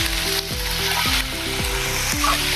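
Tomatoes go into a pan of frying oats upma with vegetables, giving a loud continuous sizzle and hiss up close, with background music playing throughout.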